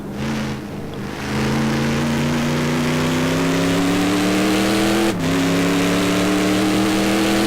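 Ford GT race car engine in a racing video game at Daytona Road Course, a loud, steady rising drone as it accelerates through the gears, with a brief dip at one upshift before climbing again.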